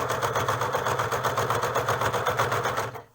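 Sewing machine running steadily through fabric along the face edge of a rapier hood, a continuous close mechanical whirr with a fast even stitching pulse throughout, stopping right at the end.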